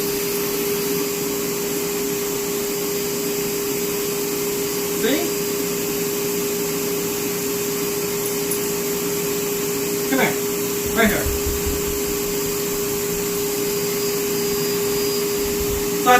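A Bissell Bark Bath dog washing machine runs with a steady, loud vacuum-like whir and a constant tonal hum, close by, while a person briefly speaks to a dog over it.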